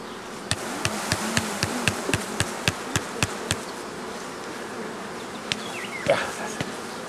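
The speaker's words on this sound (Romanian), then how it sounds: "Iată, asta are 3 kg," Honeybees swarm over a heavy, bee-laden beehive frame, giving a dense, continuous buzzing hum close by, overlaid with a run of sharp, regular clicks or taps that thin out toward the end.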